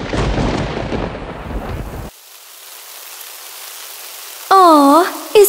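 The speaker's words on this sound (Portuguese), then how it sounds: "Oh, está chovendo!" Heavy rain hisses loudly with a deep thunder rumble, then drops to a quieter wash before a bright synthetic tone sweeps in near the end.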